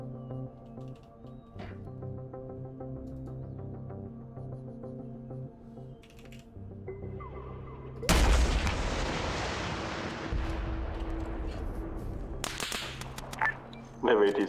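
A rocket launch and gunfire in a military shooter game: a sharp, loud blast cuts through quiet ambience partway in, followed by a long decaying rumble and a couple of later sharp reports.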